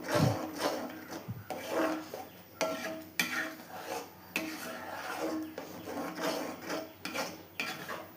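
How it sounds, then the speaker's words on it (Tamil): A sweet thirupagam mixture is stirred steadily in a pan as it cooks and thickens, with a continuous rasping, scraping rhythm of spoon against metal running throughout, close and moderately loud, with no talk. "நல்லா வேகிற வரையிலும் நல்லா கலந்து விட்டுட்டே இருக்கணும்"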